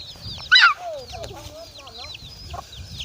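Chickens kept at a rural home, with a loud sharp squawk near the start followed by softer clucks and calls under a low background rumble.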